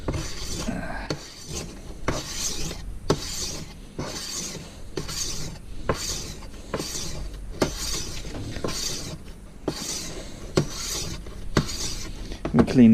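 A hand sickle blade is drawn across a coarse, gritty sharpening stone in about a dozen deliberate, evenly spaced gritty scrapes, each close and crisp, with short pauses between strokes.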